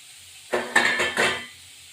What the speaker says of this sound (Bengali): এই একটা টমেটো কুচি কুচি করে কেটে দেবো